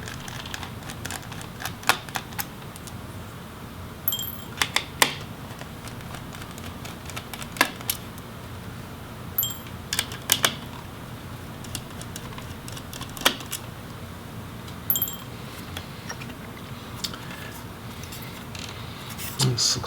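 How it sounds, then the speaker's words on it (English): Screws being removed from an HP Pavilion Gaming 15 laptop, shown as sharp irregular clicks and ticks of a driver and small metal parts, close and steady over a low background hum. "Pull the ribbon out, and then we'll remove the screws"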